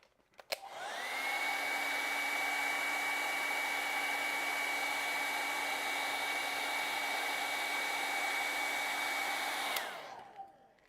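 A hair dryer drying wet acrylic paint on a painting switches on with a click and runs as a steady, even whirring hum for about nine seconds before cutting off and winding down, with no voices.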